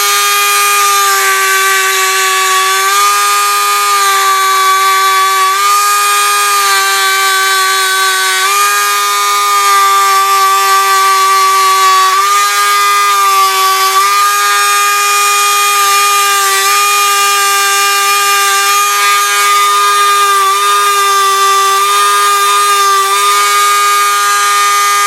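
A power tool buffs and polishes a steel gun barrel, giving a loud, steady, high-pitched whine that runs unbroken for the whole stretch with slight dips and shifts in pitch as pressure changes. No one speaks.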